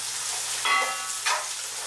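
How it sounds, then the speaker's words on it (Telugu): Mint and coriander fry in hot oil for a chicken fry piece biryani curry, a dense close hiss that swells in two brief surges. "ఆ పుదీనా కొత్తిమీర కూడా ఆయిల్లో ఫ్రై అయ్యి కర్రీకి చాలా మంచి ఫ్లేవర్ వస్తుంది"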